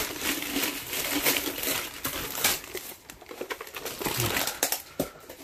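A plastic bag crinkles and rustles continuously up close as a toy Iron Man Infinity Gauntlet is handled, with dense crackling bursts throughout.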